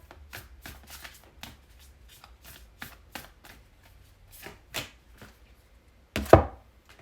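A deck of oracle cards is shuffled by hand at a tarot reading, a quick series of crisp riffling slaps at a regular rhythm, ending in one louder snap.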